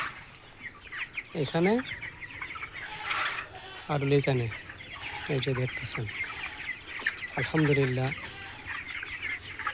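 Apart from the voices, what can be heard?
chickens clucking in a poultry farm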